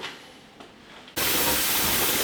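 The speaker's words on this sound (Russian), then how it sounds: "активно кипит" A quiet hiss that suddenly jumps to a loud, steady rushing roar of steam, like vigorous boiling under pressure, from water boiling in an autoclave at about 114 degrees Celsius.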